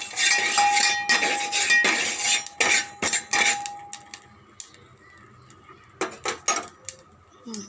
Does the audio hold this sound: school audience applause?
no